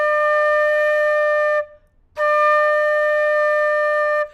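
A steady sustained D on a wind instrument, played by a music teacher in a lesson on hand position, sounds twice as clear, even tones, each about two seconds long with a short gap between, close and alone.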